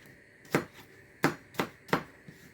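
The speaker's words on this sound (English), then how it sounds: "I'm chopping them up" A knife chops through peeled apples on a board in four distinct, sharp thuds at irregular intervals, close and fairly quiet, with a faint tap at the end.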